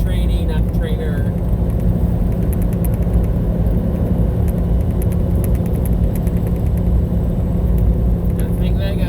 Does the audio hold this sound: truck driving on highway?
yes